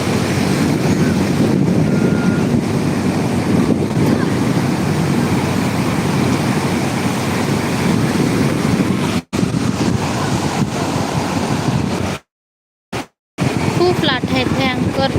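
Steady roar of crashing surf with heavy wind buffeting the microphone, loud and continuous, cutting out briefly near the end.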